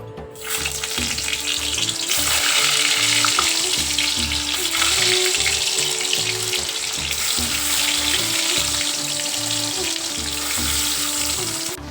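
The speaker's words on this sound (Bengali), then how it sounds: "আলু কেটে গেছে আলুটা ছেড়ে দিই" Potato pieces drop into hot oil, and a loud, dense sizzle swells up within the first second and stays strong and steady for the rest of the stretch, with no talking.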